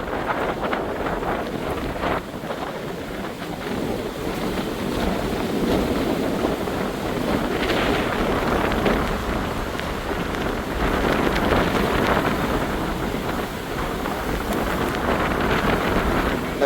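A stormy sea on a beach at Jaffna pounds the shore in strong wind during a cyclone, a continuous loud rush of surf and gusts buffeting the microphone, with no speech.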